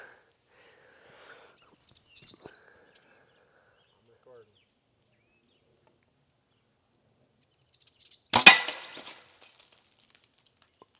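An arrow fired from a bow strikes a 12 mm glass pane with a single sharp, loud crash and a brief crackling tail, standing alone after near silence.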